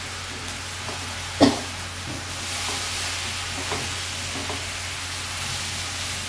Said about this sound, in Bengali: আবার একটু এটাকে মিক্স করে নিচ্ছি।